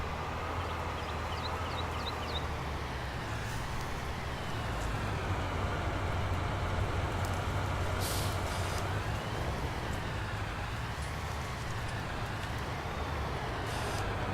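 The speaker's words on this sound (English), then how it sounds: "this is our own tractor and trailer" Tractor pulling a trailer in Farming Simulator 19 on a Michigan farm, a constant low engine drone with a faint rattle, steady and fairly quiet throughout, without speech.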